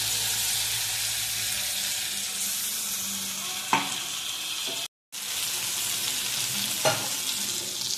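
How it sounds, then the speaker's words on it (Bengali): Chili and cashew paste with cumin and coriander powder frying in a pan for a Bengali mochar dhoka dish, a steady close sizzle with two sharp stirring scrapes and a brief silent gap. "এটা দিয়ে লঙ্কা আর কাজু বাদাম পেস্ট করে দিয়ে দিলাম।"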